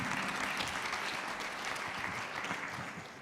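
An audience at an aviation innovation pitch contest gives a round of applause. The clapping is continuous and fairly distant, a soft wash of many hands that tapers slightly toward the end.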